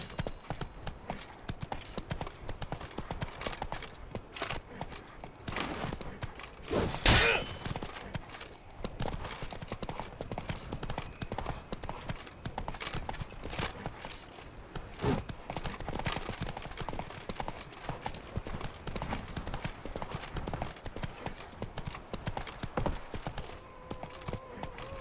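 Roach, a horse in The Witcher 3: Blood and Wine, galloping with rapid rhythmic hoofbeats over game music and ambience, steady throughout with a brief louder burst partway through.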